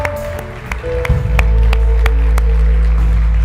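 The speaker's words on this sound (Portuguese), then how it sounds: "você pode aplaudir o Senhor" An evening church congregation claps in a steady rhythm over loud, bass-heavy worship music, the sharp claps spaced evenly and clearly audible above the band.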